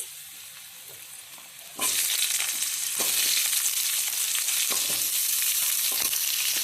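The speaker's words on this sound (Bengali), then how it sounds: "এবার এর মধ্যে দিয়ে দেওয়া হবে কেটে রাখা সবজিগুলি। কেটে রাখা আলু" Chopped vegetables and potatoes drop into hot oil tempered with spices for a mixed vegetable curry. A quiet hiss suddenly bursts into loud, steady sizzling frying, with occasional stirring knocks.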